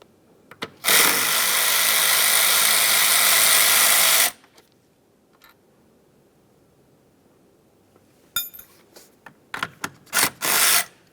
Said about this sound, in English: Now we'll continue on with a 10mm for each of our mounting studs.